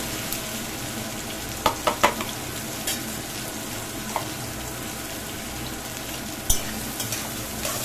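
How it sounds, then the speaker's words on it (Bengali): Chopped onions fry in tempered oil in a pan for a mutton dak bungalow curry, giving a constant hissing sizzle with a few quick clinks of a stirring spoon near the start and one near the end. "এবারে পেঁয়াজটাকে আমাকে খুব ভালো করে ভাজতে হবে"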